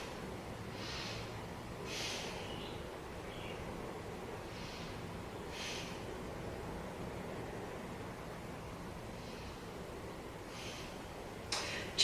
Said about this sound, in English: Now let's take a few breaths here.